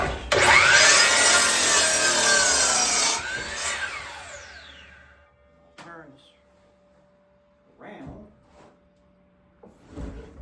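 A power saw trims a milled wooden 4x4 in a loud, steady cut lasting about three seconds, then winds down, followed by quieter knocks and handling sounds.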